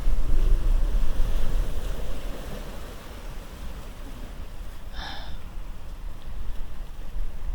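Ocean surf rolling in with wind buffeting across the open water, a steady full wash that ebbs slightly midway before building again, with a brief brighter splash near the end.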